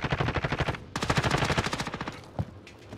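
Rapid machine gun bursts from a shooter video game rattle loudly and continuously for about two seconds, break off for a moment, then resume and trail away into a few scattered shots.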